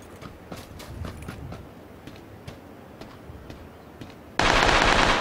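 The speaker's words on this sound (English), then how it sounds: "He's shooting at me." Gunfire from the video game PUBG comes as a run of sharp shots in an uneven rhythm, some near and some farther off, then a sudden loud burst of broadband noise over the last second.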